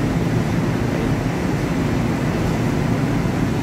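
Steam hisses steadily out of a ship's steam separator in an engine space with an exhaust gas economizer, a dense continuous rush with a low rumble beneath it and no talk.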